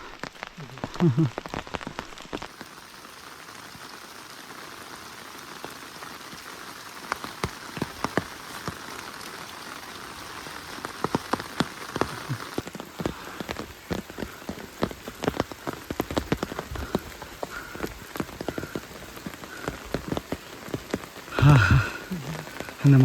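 Heavy rain pours steadily on a trek from Kumbakarai to Vellagavi, a dense hiss with scattered drops hitting nearby surfaces, and a few brief voice sounds near the end.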